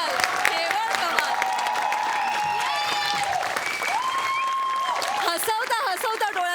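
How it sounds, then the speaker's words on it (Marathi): Loud audience applause from a comedy show crowd, dense steady clapping throughout with cheering and voices mixed in over the whole stretch. "जोरदार टाळ्या"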